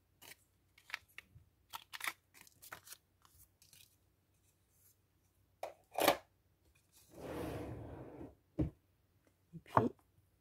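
A hand corner rounder punch bites through glossy paper tags, making sharp isolated snips and clacks, spaced irregularly between brief paper rustles and a longer scraping shuffle, close and quiet with no talk.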